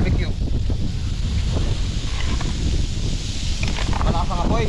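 Strong wind buffeting an outdoor barbecue grill fire, a loud, continuous roaring rumble of gusts with faint voices underneath.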